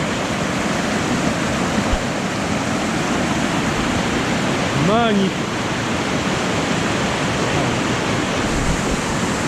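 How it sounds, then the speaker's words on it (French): A waterfall on a valley hiking trail roars as a steady, loud broadband rush throughout, with a voice speaking briefly over it midway. "Regardez la cascade."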